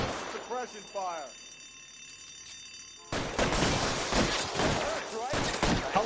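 Suppression gunfire during a shootout in L.A. Noire, with a dense, loud burst of rapid shots starting partway through that follows quieter moments of talking and a bell-like alarm ring.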